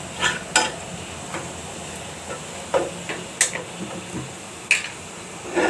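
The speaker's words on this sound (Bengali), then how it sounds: "ভালো করে নেড়ে চেড়ে নিচ্ছি।" Spatula stirring jute leaves frying in a pan for a lentil dish with chillies, heard as scattered scrapes and clinks over a faint background sizzle, close and fairly quiet.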